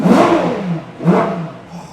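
A powerful 6.5-litre V12 engine of a 2024 Ferrari Purosangue revs twice in quick succession, each swell rising and falling, close and loud with no talking.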